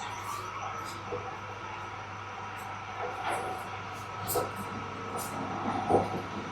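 A passing train rumbles and hisses at Godavari railway station, a steady low roll with a few sharper clanks and squeals toward the end, heard from the platform at moderate distance.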